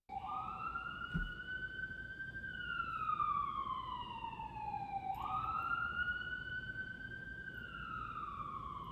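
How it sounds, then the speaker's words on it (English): A loud emergency vehicle siren passing in New York City wails steadily, sweeping up and down in long cycles and echoing, with no talking over it. "hold for sirens"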